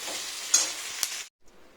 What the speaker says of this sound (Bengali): পেঁয়াজটা ভালো করে ভাজা হয়ে যাক